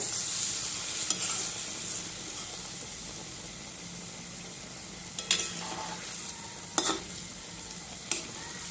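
Palm fritters (taler bora) frying in hot oil: a steady, fairly quiet sizzle and hiss runs throughout, broken by a few short bubbling bursts and spatters, with no talking.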